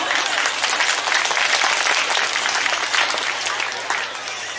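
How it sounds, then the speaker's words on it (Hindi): An audience claps loudly and continuously at a parish felicitation ceremony in a church setting, with dense, even clapping that eases slightly toward the end. "ताली बजाओ"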